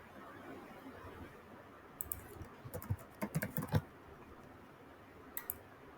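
Quiet, close computer keyboard clicks as a search word is typed into a website's title field, a short irregular run of keystrokes over faint room hiss, followed by a couple of isolated taps.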